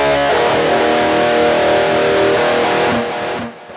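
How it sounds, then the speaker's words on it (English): Thick, high-gain electric guitar chords from a BOSS eBand JS-10 Extreme Lead amp model with tube screamer overdrive and EQ engaged sustain loudly for about three seconds, then decay and cut off; no voices. "Now the same chords with the EQ on."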